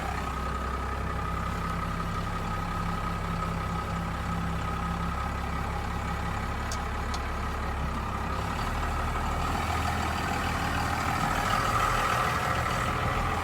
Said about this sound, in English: let's go for a quick test drive, like 10 feet down the road